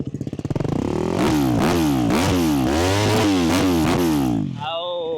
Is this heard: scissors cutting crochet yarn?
no